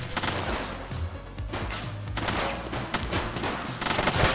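Sustained bursts of gunfire in The Precinct video game, dense overlapping shots and rapid automatic fire rattling continuously and loudly throughout, with no speech.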